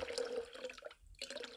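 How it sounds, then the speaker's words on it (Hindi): Water runs and splashes steadily into a 1500 W electric kettle, with a brief pause before the flow resumes, close and fairly quiet. "थोड़ा सा पानी इसके अंदर डाल लेते हैं"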